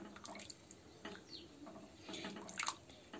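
Water from the vessel that held the soaked rajma is poured into the rajma cooking pot, a soft running splash with a brief louder gush near the end, close and alone.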